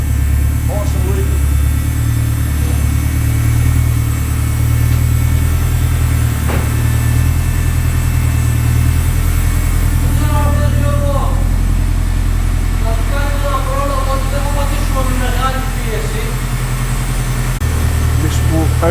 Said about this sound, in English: have a listen to the engine as it warms up